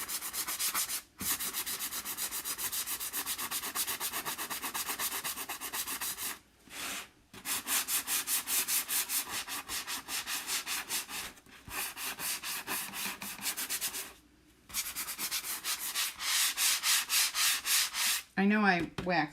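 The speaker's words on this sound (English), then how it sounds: "I love sanding." Steady, rhythmic sanding strokes rasp across a painted surface for a long stretch, broken by a few brief pauses, close and fairly loud.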